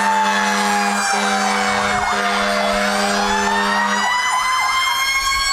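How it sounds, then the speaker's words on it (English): Frankfort Fire Department fire truck sounds a loud, close wailing siren at a St. Patrick's Day parade in Utica, sweeping up and down repeatedly alongside a steady horn-like drone that cuts off near the end. "I think they had the loudest siren in the past few years."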